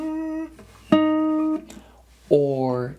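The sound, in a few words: vocal imitation of a fanfare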